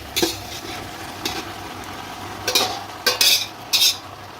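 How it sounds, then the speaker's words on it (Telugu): Macaroni pasta being stirred into a tomato masala in a pan, with scraping spoon strokes against the metal in short bursts, a soft sizzle beneath and no talking. "దీన్ని ఈ మొత్తం మసాలాలు దీనికి పట్టేటట్టు ఈ విధంగా కలిపేసుకోండి"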